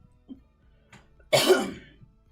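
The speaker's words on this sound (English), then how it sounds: "Leaning away from the microphone so I don't cough directly into it" One harsh cough bursts out after a couple of faint throat noises, fairly close and loud against near silence.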